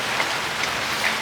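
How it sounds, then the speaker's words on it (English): Rain pours outside with a steady, dense hiss at even loudness throughout, and a few faint brighter patters sit on top. "But it's raining and I love it."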